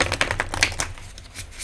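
Tarot cards shuffled by hand up close, a quick run of crisp papery flicks and clicks in an uneven rhythm, with no other sound.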